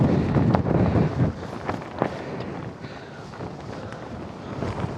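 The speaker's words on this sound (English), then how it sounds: "The wind is picking up." Strong wind gusting on Curved Ridge in Glencoe during a scramble, buffeting the microphone with a steady close rumble and sharper gusts.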